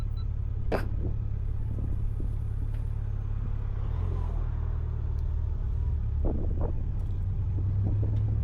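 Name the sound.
old Corvette car driving behind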